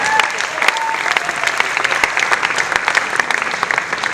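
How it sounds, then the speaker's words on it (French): Loud, dense applause from an audience at a short-film premiere, many hands clapping steadily for several seconds with a slight crowd murmur beneath. "on l'applaudit très très fort"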